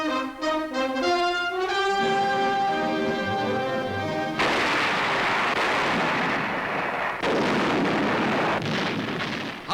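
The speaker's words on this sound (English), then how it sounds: "Howitzers of the Chinese 20th Group Army laid down a barrage against the ancient walled city of Tengchung" A 1944 newsreel barrage of howitzer fire from the Chinese 20th Group Army against the walled city of Tengchung, booming as continuous loud, rumbling blasts that rise after a stretch of music, with no talk over them.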